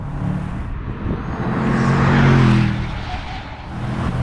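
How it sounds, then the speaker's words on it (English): A Bentley GTC convertible with its 4-litre engine and the top down, the turbos spooling and exhaust note swelling to a loud peak mid-clip before easing, steady and close with no talk. "Oh, and with the top down, you really hear those turbos spooling up. The exhaust note is totally unique."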